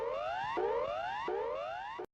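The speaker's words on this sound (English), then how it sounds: "each update will be preceded by the standard emergency warning signal" Standard Emergency Warning Signal sounded before a cyclone update: a loud, harsh electronic tone sweeping upward three times in a row, cutting off abruptly after about two seconds.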